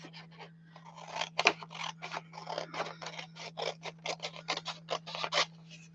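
Scissors snipping through a scrap of paper for a crafted envelope, a quick run of about twenty crisp, close cuts in uneven rhythm over a faint steady hum, with no talking.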